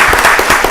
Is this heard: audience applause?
yes